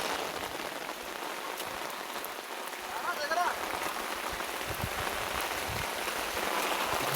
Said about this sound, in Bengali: আপনারাও সবাই দেখুন, বৃষ্টি হচ্ছে।